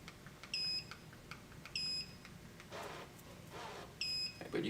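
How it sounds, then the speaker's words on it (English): An MCD RV roller shade remote motor gives three or more short, high electronic beeps in an evenly spaced series, quiet and close, with faint rustling between them. "I want this to beep 4 times."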